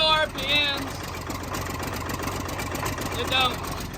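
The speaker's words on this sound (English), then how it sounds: "So at low RPMs," An Allis Chalmers 7020 tractor engine idles at low RPM, a steady rough low rumble up close that runs throughout beneath someone speaking.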